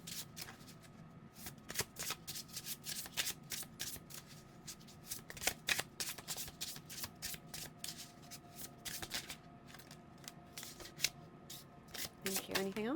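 A deck of oracle cards is shuffled in a steady run of soft, quick riffling clicks, close but quiet, over faint background hiss.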